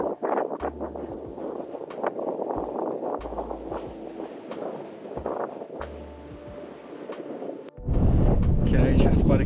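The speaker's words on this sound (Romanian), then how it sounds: "Păcat de vânt." Gusty wind buffets the microphone in low rumbling bursts while someone talks on a mountain trail near Piatra Secuiului, Rimetea, in the Apuseni Mountains, then a much louder blast of wind roars in near the end.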